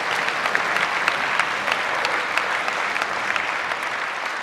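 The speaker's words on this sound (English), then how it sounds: "Let's give him a round of applause." A school assembly audience applauds a state Division II basketball coach of the year, giving a steady, even round of many hands clapping at moderate distance that holds for several seconds without talk.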